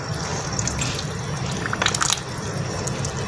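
Water sloshes and trickles while a car brake master cylinder is being washed and shaken, with soft splashing and squishing nearby over a low background.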